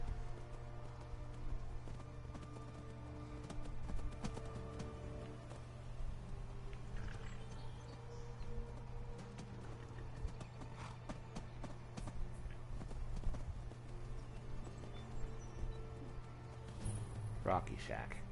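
Horse hooves clip-clop at a running pace in the video game Skyrim, a steady rhythmic thudding over a constant low game drone and ambient music, moderately loud throughout with a brief chime near the end.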